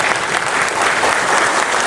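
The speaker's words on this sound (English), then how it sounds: "applause." An audience at a Comic Con Q&A panel in Niagara Falls breaks into steady, dense applause, a full crowd clapping continuously at close range.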